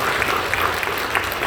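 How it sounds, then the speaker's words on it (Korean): A church congregation applauds together in a steady, dense clapping that fills the space for a moment, with no voices over it. "격려하며 박수해 주시죠"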